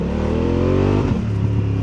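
Engine of a 2025 BMW F 900 R motorcycle revving steadily, its exhaust note holding a smooth rising pitch before dipping and settling into a throbbing near idle, close and loud with no voices.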